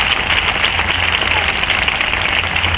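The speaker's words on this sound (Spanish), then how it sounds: "Un fuerte aplauso, por favor, a nuestros dos solistas maravillosos" Audience applause for two trumpet soloists at a wind band concert, a dense, even wash of clapping that carries on loudly throughout with a slight low hum underneath.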